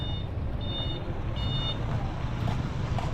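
A truck rolls off a boat ramp during a Romblon trip, its intermittent reversing beeps sounding over a steady, loud rumble of engine and surrounding noise.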